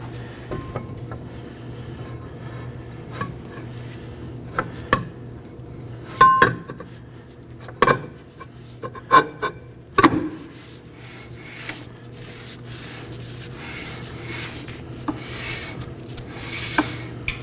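Metal brake drum on a 2013-2019 Nissan Sentra scraping and clunking as it slides on and off the wheel hub, with close irregular metallic knocks and rubbing.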